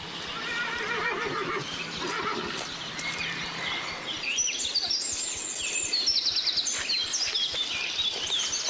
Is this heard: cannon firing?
no